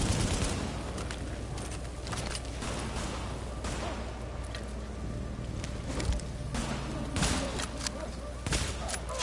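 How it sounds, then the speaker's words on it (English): Relentless bursts of video game gunfire from The Division, enemies shooting at a deployed turret during a firefight, with dense rapid volleys and sharp shots throughout at steady high intensity. "He's shooting at my turret!"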